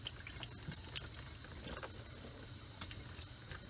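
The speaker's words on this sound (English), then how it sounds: "I'm going to start off with cool water, but I'm going to add a little warm to it" Cool tap water with a little warm mixed in runs steadily from a faucet, a soft, continuous splashing trickle close by with no one talking.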